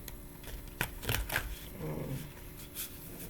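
Quick papery riffles and soft slaps of tarot cards being shuffled, close by, in a few short bursts over a low background hum.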